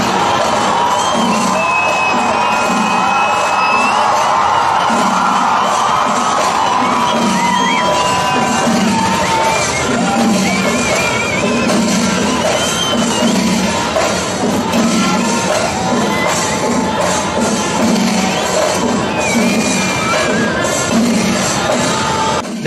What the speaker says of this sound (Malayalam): കാത്തിരുന്ന പൂരപ്രേമികൾ ആരവങ്ങൾ മുഴക്കി